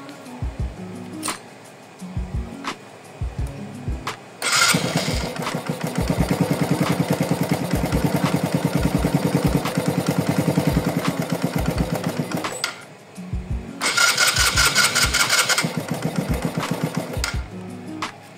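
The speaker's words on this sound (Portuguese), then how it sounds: "Eu vou ligar a moto e vocês vão ver virando aqui" A Suzuki Intruder motorcycle with a newly installed belt kit starts up and runs in a loud, rapid rattling idle, cuts out, then fires again briefly, with clicks and handling noises between the runs.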